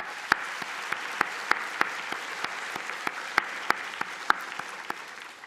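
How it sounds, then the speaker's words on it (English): Mohawk College health-school graduates at a 2019 convocation applaud, a steady wash of clapping with sharp individual claps popping out at a regular pace, moderately loud and unbroken throughout. "Give yourselves a round of applause"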